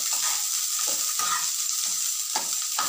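Chopped onion and garlic fry over a medium flame in a steady, close sizzle, with a spatula stirring through the pan at intervals and no voices.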